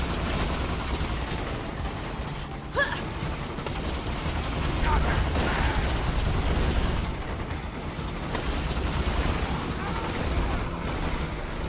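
Dense gunfire from shooting enemies in the video game Borderlands The Handsome Collection, a steady rattle of shots and impacts running throughout under a game soundscape, with a couple of sharper bursts standing out.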